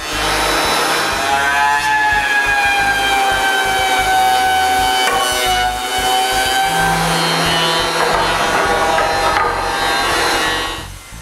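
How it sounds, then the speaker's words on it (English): A thickness planer feeds shop-shelf wood pieces through, giving a loud, sustained whining drone with tonal harmonics that shift slightly as boards pass, alone without talk. "I run them all through the thickness planer"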